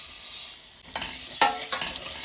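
Basmati rice frying in butter, oil and garlic in a pan, a steady soft sizzle with a few sharper scraping stirs near the middle and end, close and alone without voices.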